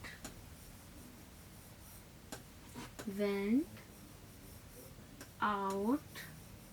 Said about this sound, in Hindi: सबसे पहले हम लिखेंगे सुनील और इसका एस कर देंगे कैपिटल